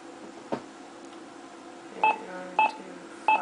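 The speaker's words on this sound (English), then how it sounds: "Okay, now you press" Brinks home security keypad beeping as code 925 is entered, three short clean beeps spaced about half a second apart after a soft earlier click, close and clear with no talking.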